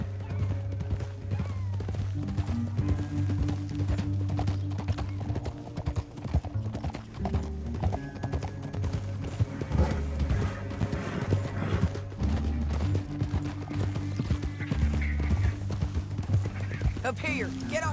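Horses in Red Dead Redemption 2 clip-clop along in a steady hoof rhythm throughout, with a sustained musical score and occasional voices over the top.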